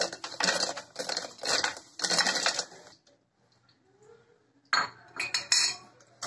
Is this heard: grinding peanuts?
yes